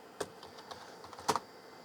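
Keys pressed on a computer keyboard: a few scattered soft clicks, with two sharper taps standing out, quiet and close in an otherwise calm room.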